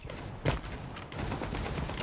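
A shotgun blast in the shooter game FragPunk during a one-on-one duel, a single sharp, close report followed by a brief tail and ongoing game noise.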